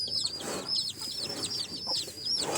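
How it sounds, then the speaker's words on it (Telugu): Chickens on a small natural farm cluck and chatter in repeated short bursts, several birds calling close by over a quiet yard, with no voices present. "కోళ్ళు చూడండి అసలు ఉన్నాయో"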